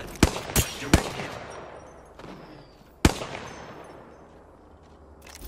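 Gunfire in the battle-royale video game Apex Legends: several sharp, loud shots in quick succession early on, a pause, then another single crack followed by fading echo.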